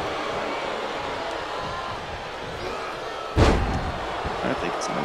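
A single heavy slam thuds loudly midway through a wrestling video game match, breaking over a steady crowd roar while a commentator talks throughout.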